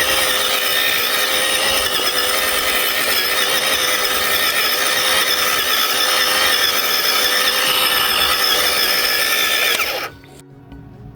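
An MZK 20V cordless electric tiller whines loudly and steadily while churning wet, weedy clay on a nearly dead battery, then cuts out abruptly near the end.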